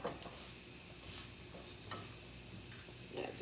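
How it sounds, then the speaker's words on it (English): Flour stirred in olive oil in a pan gives a soft, continuous sizzle with faint scraping strokes, quiet and close, without any talk. "so just keep stirring it around"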